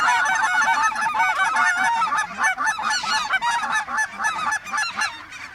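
Many geese honk loudly and continuously at close range, a dense overlapping chorus during a waterfowl hunt in Alberta, with no voices over it.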